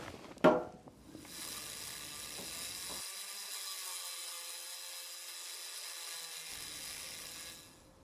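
A Dremel rotary tool grinds at a rusty front wing of a Nissan Micra K11, a thin, steady high-pitched whine running for several seconds after a sharp knock, faint and alone.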